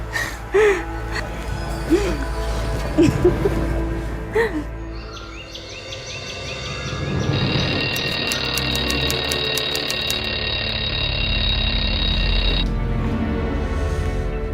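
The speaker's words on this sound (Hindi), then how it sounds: "तुम अलार्म लगा के सो जाते हो।" An alarm clock rings steadily and loudly for several seconds in a bedroom, after a stretch of quiet background sounds and soft vocal noises.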